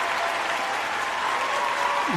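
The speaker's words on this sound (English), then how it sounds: "Let me give them a round of applause." A live audience at a radio show interview gives a sustained round of applause, a dense, even wall of clapping that stays loud throughout.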